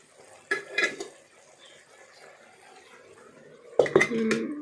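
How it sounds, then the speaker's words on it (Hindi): Metal spoon scraping and clinking in a pot of vegetables while stirring, followed by a lid clattering on to cover it; two short bursts of close kitchen clatter separated by quiet. "और चम्मच चलाओ अच्छे से। और बीच में रखो सबला। अब वापस से ढक दो।"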